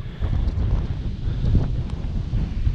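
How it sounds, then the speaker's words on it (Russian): Strong wind roars steadily and buffets the microphone, with a dense wash of noise holding falling rain, and no voices. "Дождь идет и сильный ветер."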